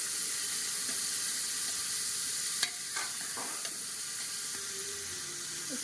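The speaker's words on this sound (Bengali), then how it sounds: "তেল হয়ে গেছে, দিয়ে দেবো পেঁয়াজ কুচি। পেঁয়াজটাকে ভালো করে নেড়ে নেবো।" Chopped onion sizzles in hot oil in a pan as it is stirred: a steady, bright hiss runs throughout, with a few utensil knocks and scrapes midway and no talking.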